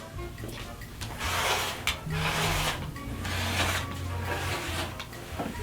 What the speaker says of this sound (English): I'm going to go ahead and cut them and then just clip them together so that I keep all my pieces where they need to be